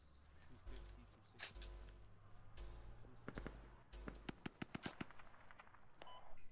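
Mortar fire in the video game Squad comes as rapid sharp cracks and deep repeated thumps, clustered in quick volleys, with voices talking among the shots.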